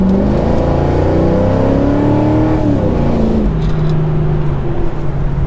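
A Mercedes E55 AMG with exhaust cutouts is revved hard, and its deep exhaust roar climbs in pitch, drops, then rises again. It sounds loud and close, with no talking.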